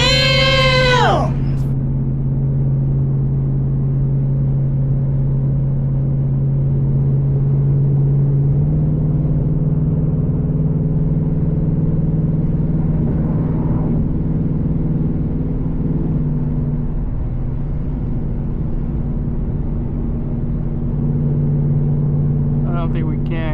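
A 2024 Ford Mustang GT in drag mode drones steadily at low pitch while cruising, the engine hum holding even throughout, with short higher whining sweeps near the start and end.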